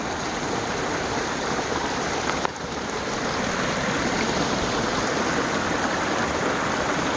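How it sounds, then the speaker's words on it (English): Small runoff stream at a woodland crossing, flowing steadily with a continuous close rush and babble of water that holds constant throughout, with one brief soft knock midway. "This little runoff crossing."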